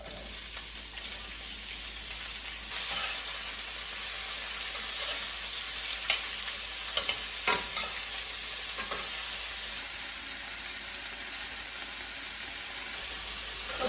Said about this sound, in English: I have sliced it lengthwise. I'm adding the onions.